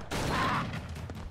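A single quick shotgun blast from the pixelated Broforce video game cracks out, followed by a brief fading rumble and a faint second pop, fairly quiet overall with no talking.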